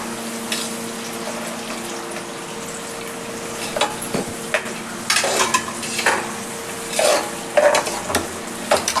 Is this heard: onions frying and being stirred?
yes